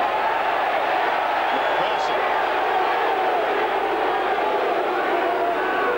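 Sydney fans roar as a steady crowd din at the SCG during a 1995 AFL football match against Richmond, with a commentator talking over the noise throughout.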